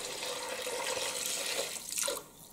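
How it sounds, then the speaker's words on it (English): Water pours steadily into a pot of cabbage being cooked with broth, a broad continuous splashing rush that fills the whole stretch and tapers off toward the end. "And now we're going to add all of this water."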